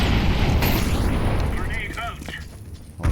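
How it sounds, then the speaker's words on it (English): Bombs exploding in a combat video game, a loud rumbling blast that fills the opening and slowly tails off, with players talking over it. "Bombs down."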